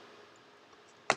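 A single sharp computer mouse click lands near the end after a quiet stretch of faint room noise, close and brief.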